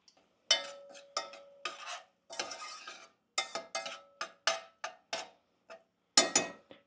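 Vegetables being sautéed in a pan, stirred with a utensil that scrapes and clinks against the metal in short, separate bursts, close and fairly loud, with no talking.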